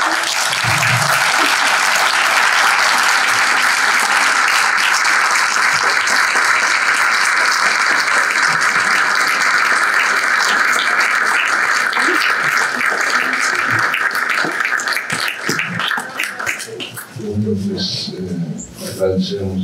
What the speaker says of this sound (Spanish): Les pido a todos un gran aplauso para ustedes.